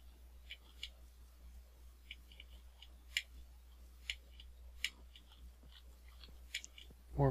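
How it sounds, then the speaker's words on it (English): A Minecraft player eating food produces soft crunchy chewing clicks at an irregular rhythm over a low steady background hum, fairly faint with no speech. "Oh, I've got to eat food."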